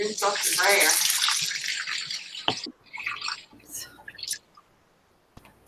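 Water runs from a nearby tap into a sink in a hissing rush for a few seconds, then tapers into scattered splashes and drips, with a brief spoken remark over it.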